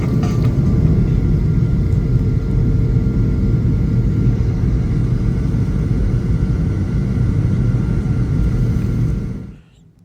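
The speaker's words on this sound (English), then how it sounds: "Today's taxi is very long because we will be departing from the south side of the airport today." Steady low engine rumble and airframe drone inside the cabin of a United Airlines Boeing 737-900 taxiing a long way to the runway, loud and continuous before fading out near the end.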